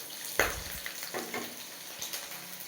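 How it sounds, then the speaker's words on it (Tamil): Chopped onion and capsicum hitting hot oil in a pan for chicken manchurian, a quiet sizzle with a sharp splash at the start, then soft stirring scrapes and crackle, no talk. "இப்போ எண்ணெய் நல்லா காஞ்ச ஊட்டி நம்ம நறுக்கி வச்சுருக்க கொடை மிளகாயும் வெங்காயத்தையும் சேர்த்துக்கலாம்."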